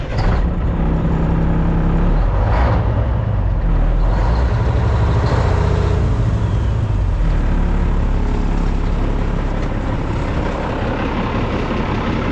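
A repaired farm truck engine runs steadily at a loud, close idle with a deep rumble, occasionally swelling slightly, and no one talks.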